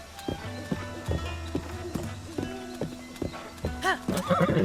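A horse in Zelda: Breath of the Wild gallops with rhythmic clip-clop hoofbeats, followed by a loud neigh near the end, over game music.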